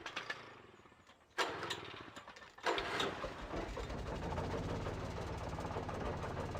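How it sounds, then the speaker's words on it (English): An old generator engine in a video game cranks with mechanical clatter, sputters, then catches and settles into a steady, rough running drone that continues to the end. "Listen to that engine roll."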